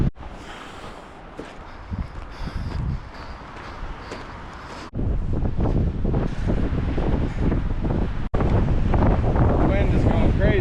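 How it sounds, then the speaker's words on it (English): Strong gusts buffet the microphone outdoors on a hike, a loud rushing roar that grows heavier partway through and continues throughout. "The wind is going crazy."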